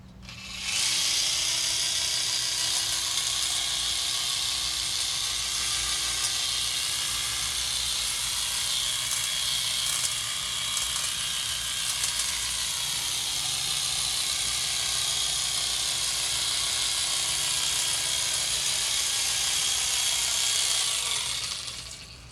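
A cordless Husqvarna 536LiHE3 or Makita XHU04 hedge trimmer with pivoting head cutting a hedge, its high whirring buzz starting abruptly, running steady and close for about twenty seconds with slight load changes, then cutting off.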